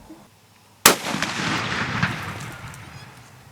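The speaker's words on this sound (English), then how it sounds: "That gun's loud." A single loud hunting rifle shot cracks sharply after a quiet moment, then a long rolling echo decays over the following seconds outdoors.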